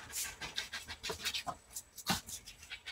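Pepper the dog pants in quick, uneven breaths close by, with small rustling movements between the huffs; the sound is faint and comes in short clustered bursts.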